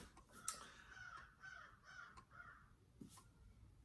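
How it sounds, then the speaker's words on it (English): Crows caw outside a public library's author talk, a handful of short, harsh calls sounding faint and distant against a quiet room. "They have, crows for ambiance here."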